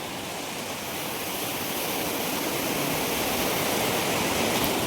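Sea waves wash in at Gopnath beach at high tide, a dense continuous broadband roar of surf that swells slightly louder toward the end, with no voices.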